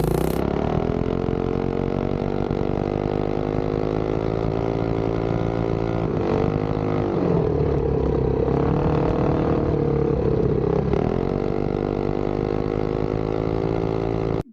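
A Duromax 208 mini bike engine with an NR Racing 252 cam roars steadily at full throttle through a drag run, its pitch dipping and wavering mid-run as the bike wobbles at around 40 mph, loud and close throughout.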